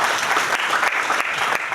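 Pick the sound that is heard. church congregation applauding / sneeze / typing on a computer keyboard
church congregation applauding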